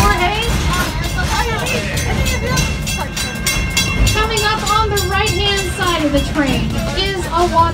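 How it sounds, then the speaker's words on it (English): A Busch Gardens park train rolls along in Florida, a steady rumbling run with rhythmic wheel clatter and squealing, warbling tones, while a voice talks over it. "This is our second train that's out today."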